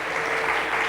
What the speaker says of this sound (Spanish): Denle un fuerte aplauso a Dios por la vida de nuestro amigo Aldo